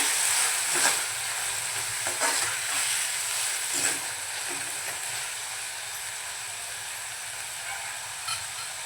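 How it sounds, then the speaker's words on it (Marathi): Chicken keema being mixed with salt in a hot pan for a spicy dhaba-style dish, a bright steady sizzle with several spatula scrapes early on that fade to an even hiss. "आता आपण चवीप्रमाणे मीठ घालून घेऊया। सुरुवातीला आपण मीठ घातलंय, त्या अंदाजाने आपल्याला मीठ घालायचं आहे। मिक्स करूया।"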